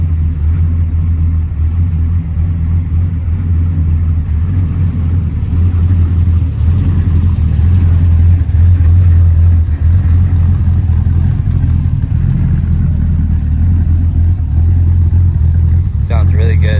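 A 1949 Chevy 5-window pickup with a swapped LS3 V8 idles and revs up close, its deep rumbling exhaust steady and building toward the end.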